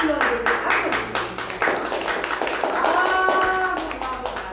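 Children in a classroom clap in a loose, uneven burst, with distinct individual claps near and fairly loud, while a voice and some chatter carry over the clapping.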